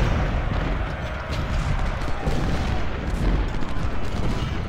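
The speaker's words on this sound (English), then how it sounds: "The artillery's going to hit them hard, like real hard." Artillery fire in the Civil War strategy game Ultimate General: Civil War, a steady dense rumble of cannon booms and distant musketry rolling on without a break, loud and continuous.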